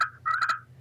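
A slate friction call imitating a wild turkey gives a quick series of soft, raspy purring and clucking notes, close and clear, lasting under a second with no voices.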